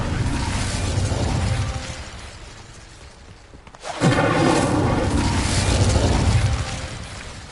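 Incendio fire spell cast in Hogwarts Legacy: a loud rushing, crackling blast that fades, then a sharp new burst of roaring flame surges and holds before tapering off.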